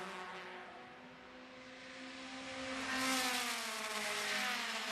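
Mazda MX-5 Cup race cars racing on the track at Canadian Tire Motorsport Park, a steady whine of engines with rising pitch that swells louder toward the end.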